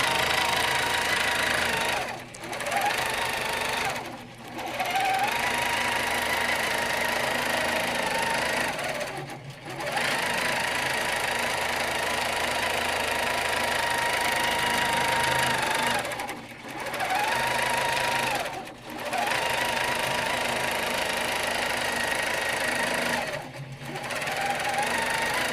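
A longarm quilting machine stitches a quilt design with a fast, steady mechanical chatter. It runs in long stretches broken by brief pauses, loud and close, with no talking.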